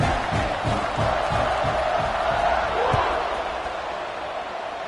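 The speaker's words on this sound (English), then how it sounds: "this crowd now ready to get behind them" Football stadium crowd at an Oregon vs Maryland game, a loud steady roar of cheering that swells and holds, with a commentator talking over it.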